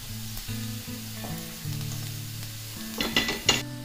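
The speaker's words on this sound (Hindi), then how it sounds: "आपको दोनों तरफ से अच्छे गोल्डन ब्राउन होने तक सेकना है।" Baby potatoes pan-frying until golden brown, giving a soft, steady sizzle close by, with a few sharper crackles and clinks near the end.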